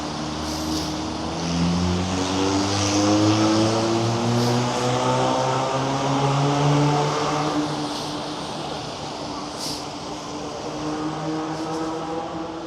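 Small Honda car engine on a busy city street, a steady droning hum with rising and falling harmonic tones as it idles and pulls away, surrounded by continuous traffic noise.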